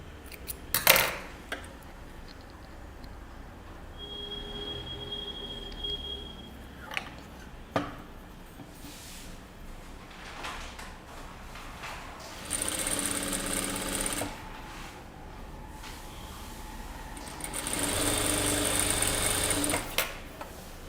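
A sewing machine stitches a deep-neck kurta, running in several bursts with whirring runs and pauses between them, close and fairly quiet, with small clicks and handling sounds in the gaps.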